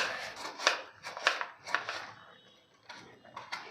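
Sharp knife chops raw mango into pieces on a board, a few quick cuts in bursts with short pauses between, close and fairly loud with no voices.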